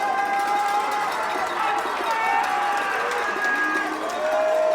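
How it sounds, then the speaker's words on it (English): High school football crowd at a Massillon Tigers versus Westerville South Wildcats game roaring during a fourth-down play, a dense, sustained wash of cheering and shouting with whistles and voices mixed in throughout. "Crowd going crazy on this play."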